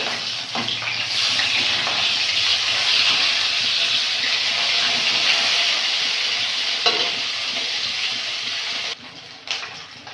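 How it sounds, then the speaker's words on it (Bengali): Pieces of rohu fish frying in hot oil give a steady, dense sizzle that stays loud and close throughout, ending with a few clatters as the pieces are turned or lifted. "মাছগুলো ভেজে নেব।"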